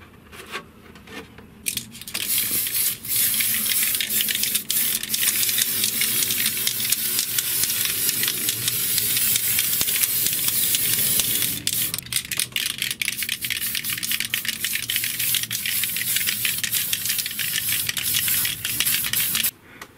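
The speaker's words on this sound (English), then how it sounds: "I started spraying that Pearl Clear" Pearl clear coat hisses steadily from a spray can onto a clear Lexan RC car body, a close, continuous spray lasting most of the time, broken by a few short pauses and light clicks.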